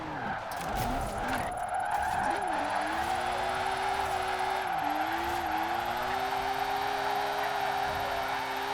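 Car drifting in Forza Horizon 4 with a long gear setup and a manji-style transition: a steady, loud engine drone that rises and dips with throttle, over continuous tire squeal and skidding, with no talk.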